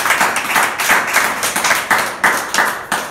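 A church congregation claps in steady rhythmic unison, a close, bright run of sharp hand claps repeating roughly every third of a second.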